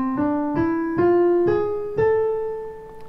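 A harmonic minor scale played note by note on a plucked, guitar-like instrument, five clear ascending notes spaced about half a second apart, close and alone with no talking, the last note ringing out.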